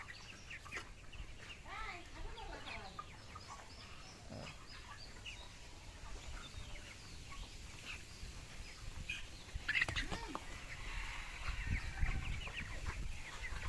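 Broiler chickens cluck and murmur throughout, a busy flock close by over steady low background noise, with a few louder calls standing out near the end.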